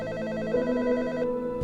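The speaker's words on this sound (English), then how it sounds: "That's when the phone rang," A telephone rings in a horror story, a loud repeated electronic trill with a harmonic tone that cuts off abruptly, heard alone.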